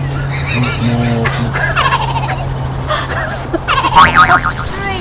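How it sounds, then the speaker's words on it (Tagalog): Several turkeys gobble in quick, warbling bursts over a steady low hum, their calls overlapping at close range. "Ay, ang mga pabo."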